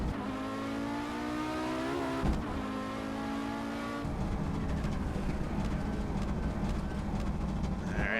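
An Audi Sport Quattro S1 rally engine drones loudly in a Pikes Peak racing sim, dropping through gears in abrupt steps with sharp pitch changes as it downshifts, a steady dense roar throughout.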